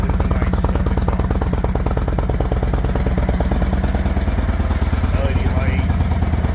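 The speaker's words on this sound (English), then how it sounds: "This has a nice upgraded exhaust on it, not too radical, but it is a nice exhaust." An Indian motorcycle engine with a mildly upgraded exhaust idles at a Sunday car meet, giving a loud, steady, rapid rhythmic rumble close by for the whole stretch.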